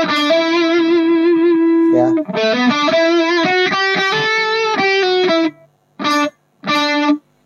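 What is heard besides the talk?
electric guitar with distortion and delay pedal effects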